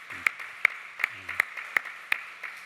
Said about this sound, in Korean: 우리 부모들에게 축하의 박수 한 번 더 부탁드립니다.